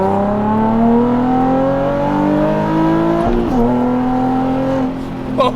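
Nissan 350Z Nismo 380RS engine pulling hard while driving, a loud rising tonal note that climbs steadily, dips briefly at a shift, then climbs again, close and continuous.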